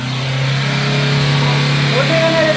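A Honda Amaze car engine revs up during catalytic converter cleaning, with a steady low idle rising in pitch as the throttle climbs, while people talk over it.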